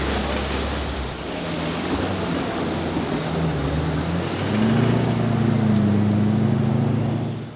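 An amphibious combat vehicle carrying US Marines pushes into deep water, a steady broadband rush of surf and wind with a low engine drone that swells louder in the second half.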